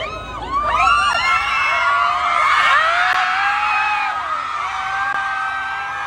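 Some 1,500 overseas fans waiting outside the HYBE building in Yongsan, Seoul, break into shrill whoops and screams of cheering as a BTS member waves. The crowd noise is loud, high-pitched and sustained for several seconds.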